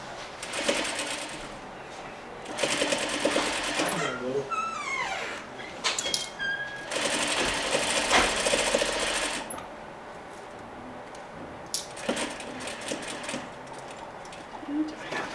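Sewing machine stitching a Parsons chair slip cover, several runs of steady close whirring that stop and restart, with quiet pauses and handling sounds between them.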